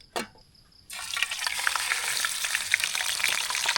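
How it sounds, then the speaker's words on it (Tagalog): After a short clunk and a moment of quiet, hot oil bursts into steady, crackling sizzle with scattered pops in a pan at a campsite, loud and close. "Habang nagpiprito tayo, ayan na, mainit na yung kawali ko"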